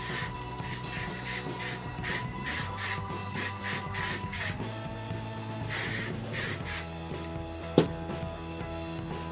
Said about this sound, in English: then just hairspray the dickens out of it